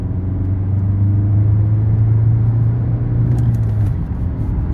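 An Audi A3 1.6 TDI with 105 horsepower accelerates onto an expressway, the diesel engine holding a loud, steady droning whine around 3000 rpm from inside the cabin, with no talk.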